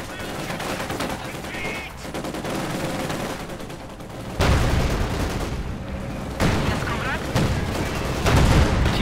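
Battle gunfire in Company of Heroes 2, with rapid machine-gun bursts and heavier booming shots that swell louder partway through, as voices speak over the din.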